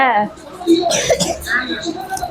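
A child coughs a few times close by, short rough bursts mixed with brief vocal sounds and whimpery breaths.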